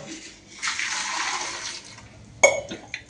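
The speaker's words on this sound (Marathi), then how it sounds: "1 तांब्या पाणी टाकलं" Water poured from a small pot into a pressure cooker holding washed potatoes, a steady splashing gush lasting over a second, then a sharp metallic clank and a few knocks close by.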